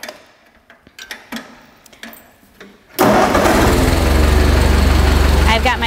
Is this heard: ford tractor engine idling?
yes